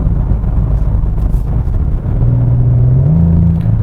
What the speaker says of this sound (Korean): 스포츠 플러스로 하니까는 전혀 다른 소리가 나네요